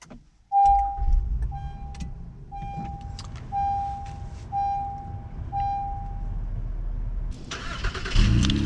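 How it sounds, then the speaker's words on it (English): A 2019 Honda Ridgeline is started by push button: a series of chimes, then the starter catches and the engine settles into a mid-pitched idle with a few surges, ending in a louder rev, heard close from inside. "press the start button."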